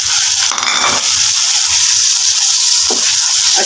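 Tomatoes and green chillies frying with browned onions in a pan give a steady, loud sizzle up close, broken by a couple of brief stirring scrapes and wet crackles.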